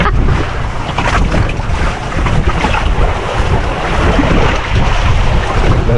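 Big ocean waves surge and slosh around a boat at sea, a loud, continuous roar of churning water and heavy wind buffeting the microphone, with no voices heard.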